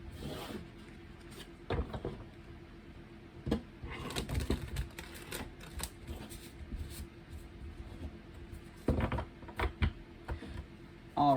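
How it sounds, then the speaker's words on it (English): Light Seer's Tarot cards being shuffled by hand, a run of soft papery riffles and taps arriving in short bursts, close and fairly quiet, with no talk. "I'll do one more shuffle this way."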